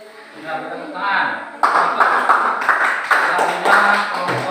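Classroom of students clapping hands in sharp, overlapping bursts starting partway through, close and fairly loud, with voices chattering underneath.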